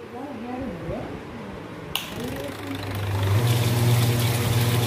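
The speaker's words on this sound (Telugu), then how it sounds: "ఇప్పుడు ఈ కూలర్ కొత్త మోటార్ అయితే మరి వాటర్ పంప్ సప్లై అయితే ఇచ్చాను." An air cooler fitted with a new motor and water pump starts up after a sharp click, its hum and steady motor drone rising and holding loud to the end, with someone speaking over the early part.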